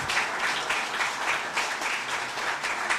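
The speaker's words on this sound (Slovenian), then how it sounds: "Še enkrat zaploskajmo županovemu vinu, Rdečemu kuveju 2012" Sustained audience applause at an event honouring the mayor's wine, the 2012 Rdeči kuvé red from the Nova Gorica municipality, as a dense, even wash of many clapping hands held for about three seconds.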